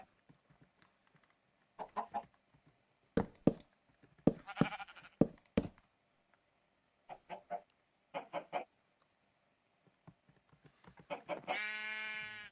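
Short bleats and clucking from Minecraft sheep and chickens come in scattered bursts over near silence, ending in a louder sustained bleat.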